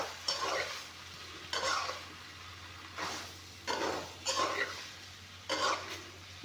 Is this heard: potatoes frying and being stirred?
yes